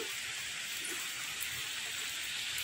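Steady rain falling outdoors, a dense, even hiss that holds at a constant moderate level throughout with no speech.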